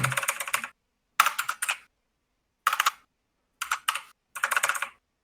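Bursts of computer keyboard typing in quick clattering runs separated by short pauses, close and fairly loud, with no voices.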